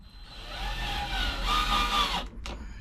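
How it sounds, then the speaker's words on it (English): A power drill whines steadily into a tabletop during caravan wardrobe shelf work, a close, continuous buzzing that cuts off abruptly near the end, followed by a short burst. "you drilling onto the table"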